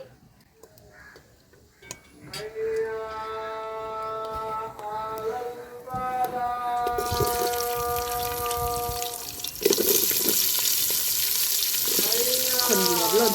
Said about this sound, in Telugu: ఇంకా ఇవన్నీ ఎగిన తర్వాత అయితే ఉల్లిగడ్డలు పచ్చిమిరపకాయలు వేసుకుందామండి